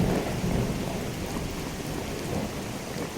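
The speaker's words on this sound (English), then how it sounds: "I can't hear myself think because of that stupid thunder." Thunder rumbles continuously through a rainy storm in the video game Skyrim, a dense, steady roar with rain hiss and no break across the short stretch.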